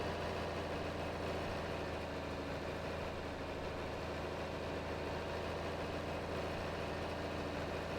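Tractor engine idling in Farming Simulator 22, a steady low, even drone with no change in pitch, faint and continuous with no talk.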